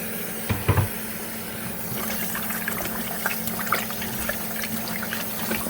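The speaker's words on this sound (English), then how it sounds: "And I'm about to pour some vinegar." Vinegar poured over cut-up chicken pieces for curry, a faint liquid trickle and splash over steady background hiss, with a couple of brief louder knocks near the start.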